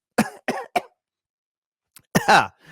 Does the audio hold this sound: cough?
yes